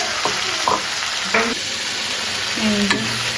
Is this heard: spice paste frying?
yes